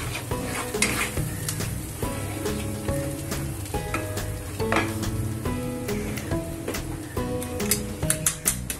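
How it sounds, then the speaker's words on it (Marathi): Food sizzles in a hot pan while a spoon stirs and scrapes it repeatedly, a close, steady frying hiss punctuated by irregular clinks of the utensil against the pan. "हे चांगलं परतून घेऊ"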